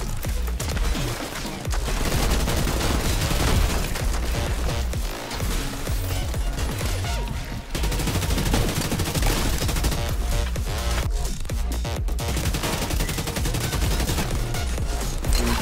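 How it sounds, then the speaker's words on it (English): Sustained assault-rifle gunfire in The Division 2, loud and dense bursts rattling almost continuously, with booming shots layered over a constant din and only a brief dip midway. "He shot me through that thing."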